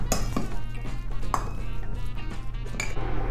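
A spoon mixing meatball mixture in a bowl, with a few close clinks and scrapes against the bowl over a steady low kitchen hum.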